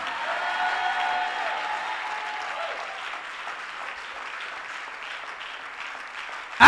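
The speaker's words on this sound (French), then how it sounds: "Acclame pour mon épouse." An audience at a church gathering bursts into sustained applause, a dense wash of clapping that stays loud and even for several seconds, then tapers slightly toward the end.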